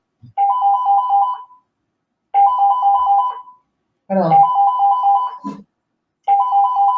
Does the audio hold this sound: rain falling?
no